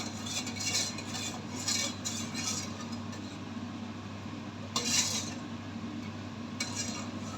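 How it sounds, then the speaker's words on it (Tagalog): Longan, sticky rice and coconut milk stirred in a pot, soft scraping and clinking of a utensil against metal in a few brief bursts over a low steady hum, quiet and close. "Halu-haluin hanggang kumulo."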